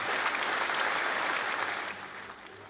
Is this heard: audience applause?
yes